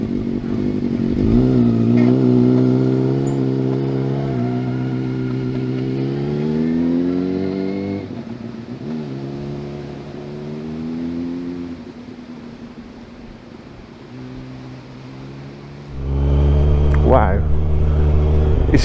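A Yamaha YZF R125 125cc sport motorcycle revs up and down in rising and falling sweeps, then settles into a lower idle before a loud burst of throttle near the end, with someone talking during the revving.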